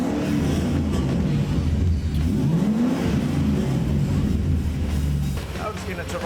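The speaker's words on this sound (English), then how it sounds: "At the moment the engine's hunting around" A V8 engine runs at idle with revs hunting up and down, its low rumble rising and falling in uneven surges as someone talks over it.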